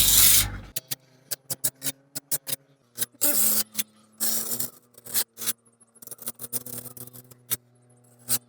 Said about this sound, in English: the excess can just be scraped off at this stage, and then just finish that edge off